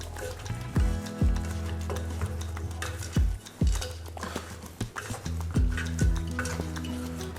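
Beef ribs being stirred together with spices, salt and curry leaves in a pot, with repeated scraping knocks of a utensil against the metal at an uneven rhythm over a steady low background hum.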